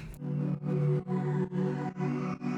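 Sustained synth chord pulsing in short rhythmic swells, its tone sweeping with a phaser effect, heard alone without voices.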